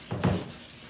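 A sanding disc passes over a plastic headlight lens, making one short, soft abrasive rubbing swish against a low background hiss.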